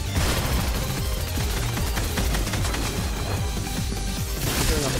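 Dense shotgun blasts and other weapon fire in a video game battle, loud and nearly continuous with overlapping booms and cracks and no clear pauses.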